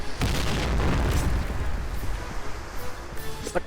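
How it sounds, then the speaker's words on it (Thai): An explosion booms in the shooter game Point Blank, a heavy close blast that rumbles and decays over a few seconds, with faint clicks near the end. "ระเบิดของจริงกันเนี่ย"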